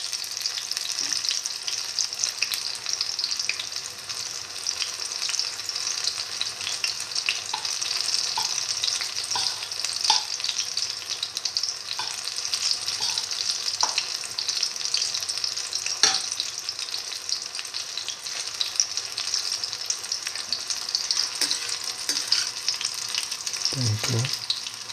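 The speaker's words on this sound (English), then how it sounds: "And fry till all the fritters are golden brown" Beef, tomato, fenugreek leaf and chickpea fritters frying in hot oil, giving a steady close crackling sizzle throughout with a few light pops and a brief clatter near the end.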